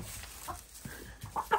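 A farmyard chicken gives a few quiet, short clucks, soft and slightly distant against low background noise.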